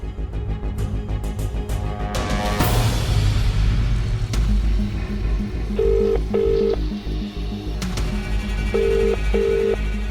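Electronic phone tones ring out in paired repeating beeps over a busy background of music-like tones in a TV drama scene, the ringing going on without being answered.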